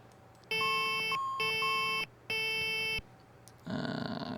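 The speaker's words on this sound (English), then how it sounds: "let's first silence the alarm" A Saab 340 cockpit alarm in the X-Plane 12 simulator sounds three loud, sustained electronic tones, each about half a second to a second long, separated by short gaps, before cutting off into a rougher burst of noise.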